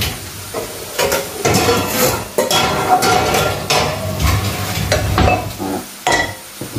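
A saucepan clatters and scrapes on a stovetop amid sizzling and stirring, with a few sharp knocks of metal.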